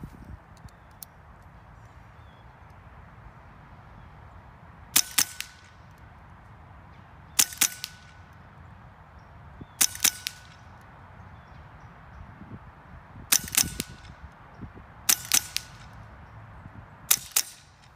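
An AEA HP Carbine .25 air rifle fires six sharp shots at a steady pace about two to three seconds apart. Each crack is followed by a quick secondary snap over a low outdoor background.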